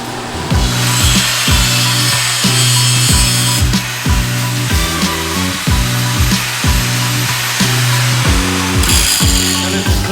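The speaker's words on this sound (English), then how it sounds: "Let me see a grinding disc in it." An angle grinder fitted with a grinding disc cleans up a 7018 weld bead and runs loud and close in steady, repeated passes, its droning whine rising and falling with each stroke.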